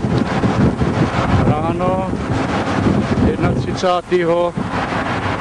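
Strong wind buffets the microphone on a clear, windy October morning, a steady loud roar throughout, with a voice speaking over it partway through.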